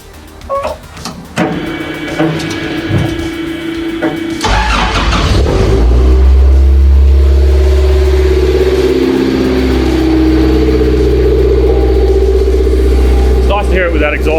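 A Toyota Corona race car with a swapped 3S engine cranks, fires up and settles into a loud, close, rough rumble with revving swells, while people talk nearby.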